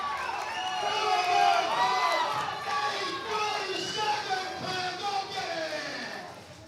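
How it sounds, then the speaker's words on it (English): A crowd at a USA Powerlifting meet cheers and shouts steadily for a 380-kilo squat attempt, a sustained roar of many voices with whoops rising and falling. "Crowd's getting hype here for Kyle."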